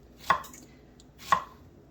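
A knife chops through fresh strawberries for homemade jam, two crisp single cuts landing about a second apart against a quiet kitchen background.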